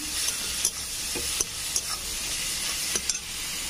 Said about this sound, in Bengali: এটা ভালো করে আমি কষে নেবো।